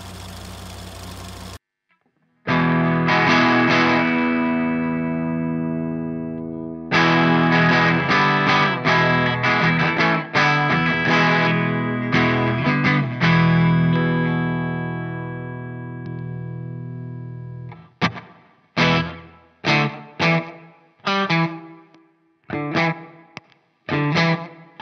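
Electric guitar run through a Non-Human Audio Slow Loris pedal and a Cab M+ cabinet simulator, heavily distorted: long sustained chords and dense chugging riffs, then a series of separate stabbed chords that ring out and decay.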